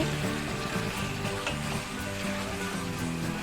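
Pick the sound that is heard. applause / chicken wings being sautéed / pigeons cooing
chicken wings being sautéed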